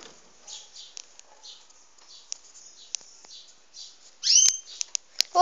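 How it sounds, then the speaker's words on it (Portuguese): A pet songbird sings indoors, with thin, high chirps and short warbling phrases repeating at irregular intervals, ending in a louder, brighter burst of calls. "Não reparem no barulho, é porque meu passarinho é cantador."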